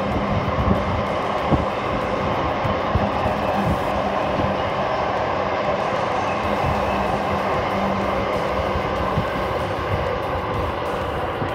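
A train rumbles past nearby on a dark, windy street, a continuous loud roar with rhythmic clatter of wheels over rail joints sustained throughout.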